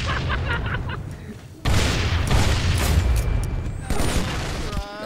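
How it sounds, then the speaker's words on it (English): Flashbang grenade blasts in the VR shooter game Contractors, loud booming bursts with a long ringing, hissy tail and a second burst near the end, close-up amid game noise, with a voice speaking over it. "That flashbang is way too long."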